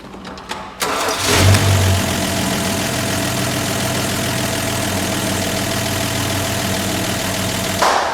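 A Toyota Land Cruiser FJ62 engine cranks and catches after a brief quiet start, then settles into a steady, loud idle that runs to the end with a slight blip near the close.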